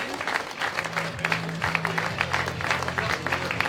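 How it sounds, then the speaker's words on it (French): A crowd at an Ultimate Race awards ceremony gives the prizewinners a thunderous round of applause, sustained dense clapping from many hands, with a voice speaking faintly beneath it. "le public, pendant qu'ils se mettent en place et qu'ils sont récompensés, nous demande de leur faire un tonnerre d'applaudissements"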